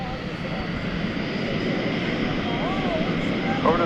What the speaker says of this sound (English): clear for takeoff on 8 left, GPS 765 heavy